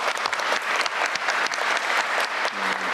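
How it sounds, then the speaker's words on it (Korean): A room full of people at a government ministry briefing claps together, dense sustained applause close and loud from start to finish, with a faint voice near the end. "박수도 한번 하시죠."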